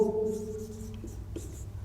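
Chalk scratching across a classroom blackboard during a chemistry lecture, a few short soft strokes, close and fairly quiet over faint room hum.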